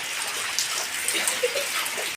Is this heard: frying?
no